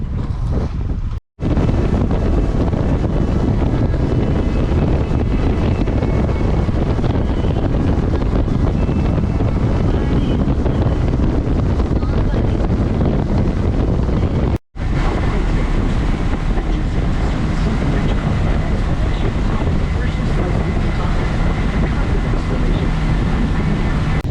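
Strong wind roars across the microphone during a motorboat ride near Tavares, Florida, with water rushing and an engine droning steadily underneath for the whole stretch.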